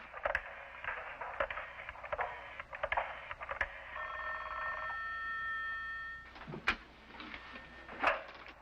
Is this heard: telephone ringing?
yes